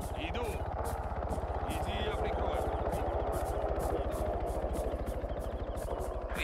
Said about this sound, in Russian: Вижу цель. Вертолет.